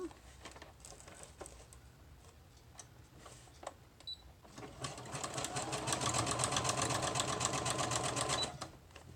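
Sewing machine zigzag-stitching through a handmade journal of packing paper, a quiet intermittent whir that swells into steady, fairly loud continuous stitching for several seconds near the end.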